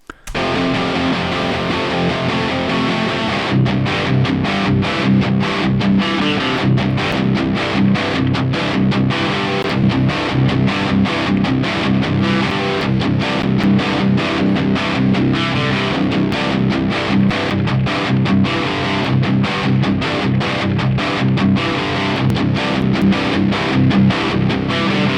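An electric guitar played through a high-gain distortion pickup, the SH6, rings out loud and saturated with dense, continuous chugging riffs and rapid picked notes throughout, with no talk.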